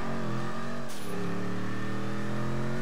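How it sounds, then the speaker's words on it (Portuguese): A Declasse Vigero car engine revs in GTA 5, a loud, steady mid-pitched drone with a brief rising surge near the start, then holding high and constant. "O barulho do carro ficou show de bola"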